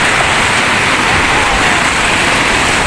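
Loud, steady roar of sea surf washing and crashing at Bagasbas Beach, a Bicol surfing spot, a continuous broadband rush of water with no pauses.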